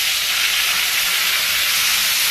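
Cucumber and potato pieces fry in a pan with salt, turmeric and a whole green chilli, giving a steady, close, bright sizzle that keeps up evenly with no talking.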